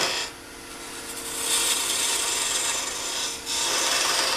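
Wood lathe tool shaving bevel cuts on a turning wooden sphere at the headstock end, a continuous rasping scrape that swells and drops for a few seconds, close and fairly loud.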